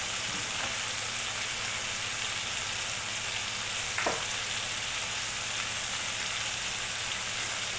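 Ingredients frying in a pan while being stirred, a steady close sizzle throughout with one brief scrape or stir partway, no voices.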